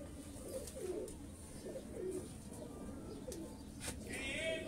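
Pet pigeons coo in a repeated low, rolling rhythm close by, several calls in a row over a steady background hum, with a brief higher flutter near the end.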